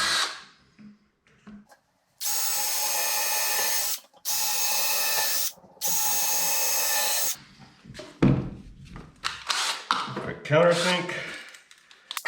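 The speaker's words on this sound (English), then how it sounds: "Change from my countersink back to my drill bit." Power drill boring with a drill bit during a wooden lighthouse model build, three loud sustained bursts of whirring separated by short pauses, followed by scraping, handling knocks and quieter tool noise.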